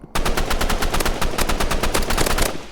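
Rapid automatic gunfire from a video game blasts loud and continuous in tight bursts, with only a brief pause near the end.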